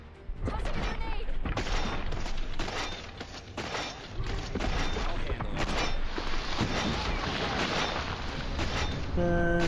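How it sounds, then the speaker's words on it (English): Constant loud video-game combat in Cepheus Protocol, with a grenade blast among dense gunfire and crashing impacts, under people talking. "Tossing a grenade"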